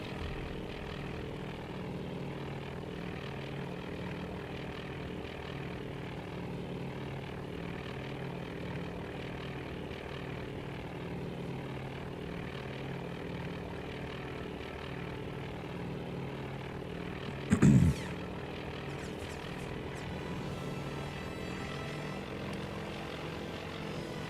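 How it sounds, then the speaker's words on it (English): A float plane's propeller engine hums low and steady throughout a World War II naval battle in the game Task Force Admiral, with one brief sharp bang partway through. "It is a float plane."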